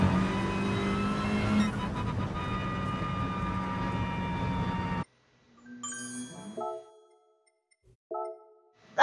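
A car engine in the Gran Turismo Sport driving game revs hard and steadily for about five seconds while a faint in-game chime tinkles. It then cuts out, and two short, rising engine bursts follow after stretches of near silence.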